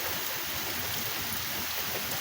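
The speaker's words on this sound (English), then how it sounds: "it's really fucking raining over here." Heavy rain pours down steadily in Independence, Missouri, a dense, unbroken hiss of water that holds at an even level throughout with no voices.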